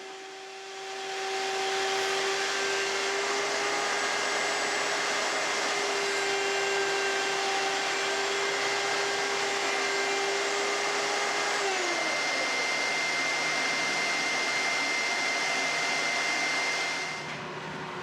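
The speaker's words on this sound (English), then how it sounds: "I've got an old Craftsman router. It only has 1 speed, which is very fast." An old single-speed Craftsman router spinning at very high speed, a loud steady whine that spins up, holds evenly for about fifteen seconds and then winds down, with no talking.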